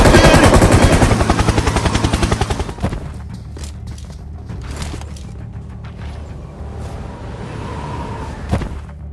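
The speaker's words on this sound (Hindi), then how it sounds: "Helicopter helicopter." A helicopter in the battle royale game BGMI thunders with a loud rapid rotor chop at first, then fades away, leaving scattered distant gunfire and thuds.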